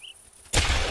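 A single Colt 45 gunshot in the hunting video game theHunter, a sudden loud blast that cuts in after a quiet moment and rings out to the end, with no talk.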